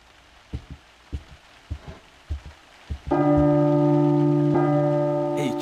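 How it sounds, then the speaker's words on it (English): A church bell tolls in the horror video game P.T. Silent Hill: a single loud, sustained bell strike rings out and slowly decays, preceded by several soft, dull thuds like slow footsteps. "A church bell?"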